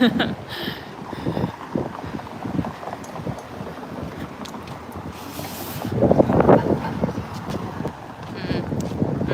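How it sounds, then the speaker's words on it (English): Gusts of wind buffet a microphone outdoors in downtown Toronto, a low rumbling roar that rises and falls, with a strong surge in the later seconds. "I keep walking in and out of these like bursts of wind."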